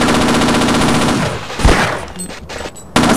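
Mounted gun turret firing in Half-Life, a loud continuous rapid burst of automatic fire with a brief break near the end before it resumes.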